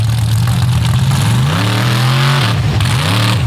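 A drag racing car in a modified class at a track launching off the trans brake, its engine revving loudly and climbing in pitch, then dropping briefly and rising again, close and alone with no talk.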